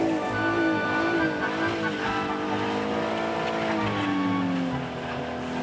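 An Acura car with traction control fully off spins its wheels on ice during winter testing, the engine droning and revving steadily as the tone rises and falls, loud and close for several seconds.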